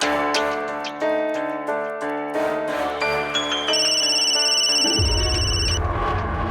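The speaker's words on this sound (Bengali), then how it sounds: "মা শোনো, তোমার ফোন এসছে।" A phone rings with a bright, repeating electronic melody, loud and close, then a low rumbling noise comes in near the end.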